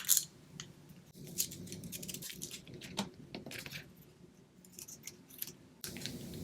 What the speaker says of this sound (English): I really like those scallop scissors.